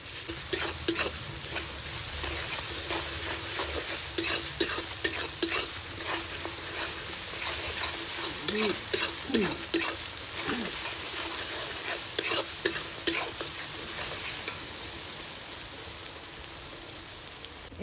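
Onion and garlic paste frying in a pan for a Santali meat pitha, a steady close sizzle broken by frequent scraping and tapping of stirring, with faint voices briefly in the middle.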